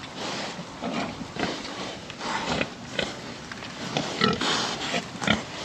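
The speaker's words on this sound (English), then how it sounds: "That pig right there is a giant." Pigs on a farm grunt and snuffle close by in a busy, continuous stream of rough snorts and sniffs, with irregular louder bursts throughout and no talking.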